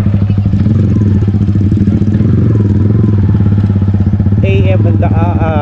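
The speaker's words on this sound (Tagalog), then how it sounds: "Ayan, so napakarami ng mga motorsiklo." Motorcycles at the crowded parking area of Batongan Cave, a loud, close, steady engine idle throbbing throughout, with a voice cutting in briefly near the end.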